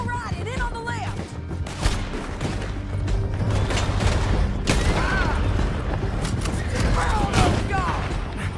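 Gunfire during a canyon chase in Red Dead Redemption 2: scattered shots crack and boom throughout, mixed with creaking mechanisms and hoofbeat-like clatter, while voices shout over the shooting.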